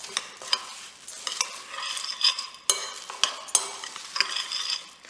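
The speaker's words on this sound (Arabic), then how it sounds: "بحرك" A spoon stirring a homemade chocolate cornflakes mixture with flaxseed and cocoa in a bowl, giving repeated scraping and crunchy rustling strokes with sharp clinks, close and steady with no talking.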